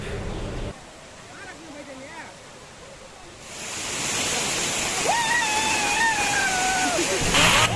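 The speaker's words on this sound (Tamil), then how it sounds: "இந்த ஃபால்ஸ் பேர் மங்கி ஃபால்ஸ்" Monkey Falls at Valparai, a steady rushing roar of falling water that swells louder midway, with voices and excited cries from people near the water over it.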